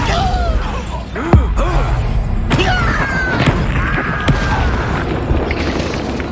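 Bombarda explosion spell in the Hogwarts Legacy video game: a sharp, heavy blast with a thudding boom, followed by more impacts, creaks and whooshing spell effects amid ongoing combat clatter.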